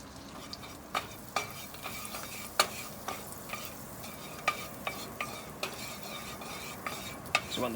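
Butter sizzles in a hot pan on the side burner of a Weber Spirit II E320 grill: a faint, steady crackle with a few sharp clicks of a utensil against the pan scattered throughout.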